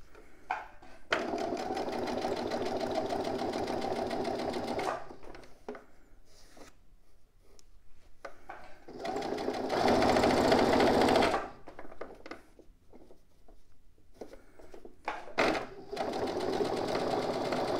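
A sewing machine stitches pieces of imitation leather in loud, rapid bursts of whirring, pausing between runs with quieter handling sounds.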